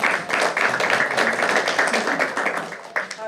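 An audience at a county board of education meeting clapping for an absent student, continuous moderately loud applause with fairly even, dense claps throughout.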